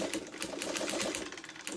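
A sewing machine runs steadily while stitching a quilt, its needle thumping in a fast, even rhythm with no voices over it.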